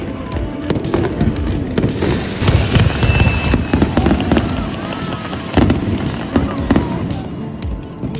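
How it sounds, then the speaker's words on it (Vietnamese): A fireworks show in Sydney, with loud rapid cracks and booms bursting in dense irregular volleys, crackling continuously with faint crowd noise underneath. "Ăn xong thì nhà mình đi xem bắn pháo hoa."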